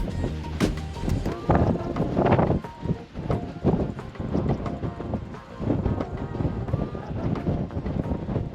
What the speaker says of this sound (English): summit of Half Mountain, and it is windy.